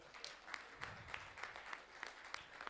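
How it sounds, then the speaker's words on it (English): Scattered audience clapping at a property launch event, a small group giving fairly faint, loose, uneven claps with a few sharper individual hand claps standing out. "Clap hands for that."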